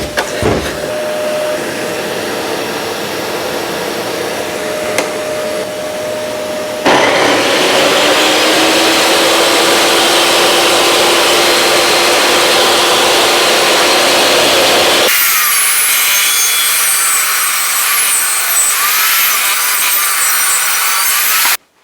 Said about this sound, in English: I'm going to put that through the saw first at 25mm.